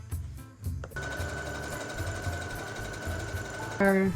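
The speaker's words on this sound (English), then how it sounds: "We are going to sew this part right here" A sewing machine stitches fabric pieces for a sleepwear set, running in one steady, buzzing hum for several seconds after a few short starts. It ends with a brief tonal sound.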